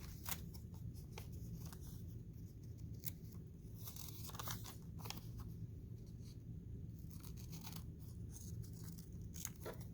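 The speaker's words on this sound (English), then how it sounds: "Just going to cut kind of this L shape." Scissors snip through paper cut-outs for a home collage, shaping an L and a little nose, giving light, crisp repeated cuts and crunches at close range over a steady low background hum.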